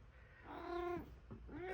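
A cat gives two quiet meows nearby: a drawn-out, wavering call, then a short rising one after a brief pause.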